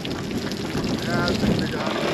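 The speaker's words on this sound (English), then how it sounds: "A lot of rain in our boom." Steady rain patters on a sailboat's boom and deck, a dense, continuous hiss with some wind noise, close and fairly loud, with faint voices in the background.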